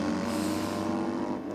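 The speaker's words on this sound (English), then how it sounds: "definitely hear that Harley down there" Steady, even engine drone from a Harley motorcycle running at a drag strip at night, heard from a distance as a continuous hum with no voices over it.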